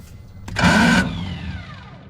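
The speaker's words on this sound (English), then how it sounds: "continuing to push the starter button, just grinding away on those gears" The starter on an M29 Weasel grinds on its gears in a single harsh, loud burst of about half a second, followed by a fading whine and low rumble.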